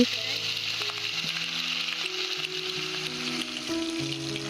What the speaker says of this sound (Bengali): তেল গরম হয়ে গিয়েছে, এখন আমি মাছটাকে দিয়ে দিচ্ছি তেলে